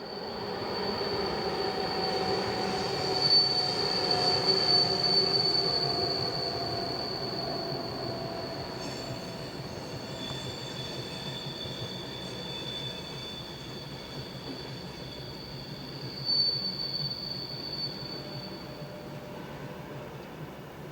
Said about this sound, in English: An unidentified Class 1144 is in charge of train EN234 from Rome and Milano to Vienna.